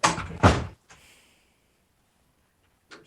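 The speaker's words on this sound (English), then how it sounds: "I'm gonna close this door real quick" An indoor door swings shut with a sharp double thud, followed by a faint rattle and a soft knock near the end; close and loud, no talking.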